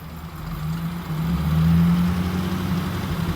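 A 1937 Packard engine, just fitted with a new oil pump, idles and then rises under added throttle into a louder, steady low-pitched drone, close by and without talk.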